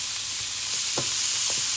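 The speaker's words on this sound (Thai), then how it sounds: "ผัดหมูให้สุกประมาณนี้นะคะ" Pork sizzles steadily while being stir-fried in a pan for Japanese curry, with a continuous bright hiss and a few soft scrapes and stirs of a utensil, close and alone.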